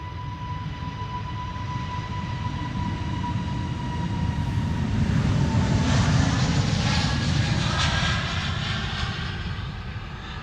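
EasyJet Airbus A320neo departing Amsterdam Schiphol, a broad continuous jet engine roar that swells toward the middle and stays loud, with a steady high whine at first, heard from a distance outdoors.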